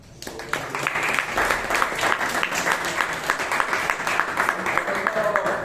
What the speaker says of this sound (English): Applause to our acting.